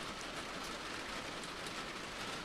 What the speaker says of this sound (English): I really hope you guys are hearing me good because of this rain